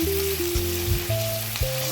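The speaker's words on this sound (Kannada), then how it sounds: "ಎಣ್ಣೆ ಬಿಸಿಯಾದ ನಂತರ ಈರುಳ್ಳಿ ಹಾಕ್ಕೊಂಡು ಫ್ರೈ ಮಾಡ್ಕೊಳ್ತೀನಿ" Onions frying in hot oil for egg fried rice, a steady close sizzle with some stirring clatter and short tonal clinks, no talking.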